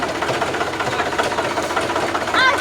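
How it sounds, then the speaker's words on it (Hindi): A Mahindra tractor engine runs close by with a loud, steady diesel rumble and a fast, even knocking beat that holds throughout, with no clear talk over it. "अब देखिए पीछे जाना वाला ट्रैक्टर, इसको देखिए कैसे ले जा रहे हैं"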